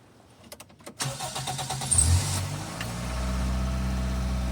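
A Toyota Sera with a 5E-FHE engine is started after its idle air control valve was cleaned: a few clicks, the starter cranks for about two seconds, then the engine catches and settles into a steady, close idle.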